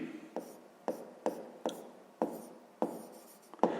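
A pen writes on paper while a sixth-grade math exercise is worked out, making a series of short scratchy strokes and taps, quiet and close, with brief pauses between marks.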